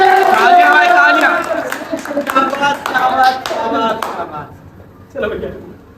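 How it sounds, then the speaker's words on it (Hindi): A small audience claps at a fitness talk, with fairly close, scattered hand claps mixed with voices and chatter, tapering off before a final short burst. "तालियां भाई, तालियां।"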